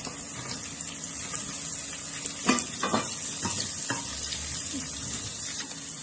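Carrots for a carrot-lime pickle sauté in hot oil, giving a steady sizzle with a few sharper bursts and scrapes as they are stirred in the pan.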